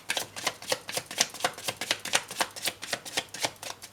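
Tarot cards being shuffled by hand, a steady rhythmic series of soft papery riffles and slaps, about three per second, close and fairly quiet with no voice.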